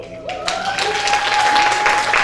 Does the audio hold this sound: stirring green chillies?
no